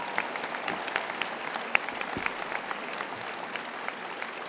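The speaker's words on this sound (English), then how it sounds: "Let's give these people a round of applause." A crowd at a high school Veterans Day ceremony applauds steadily, a dense patter of clapping hands held at an even level, moderately distant.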